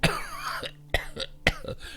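Three or four harsh coughs in quick succession, close and loud, with short gasps between them.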